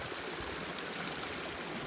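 Irrigation water pours steadily into a rice field on a farm, a constant broadband rush with no voices.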